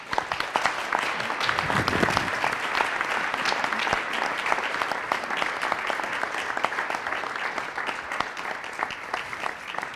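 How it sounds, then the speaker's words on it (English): Audience at an entrepreneurship event gives warm, continuous applause for a group of honored leaders, many hands clapping close and evenly for the full stretch without talk. "If you could join me in clapping for them."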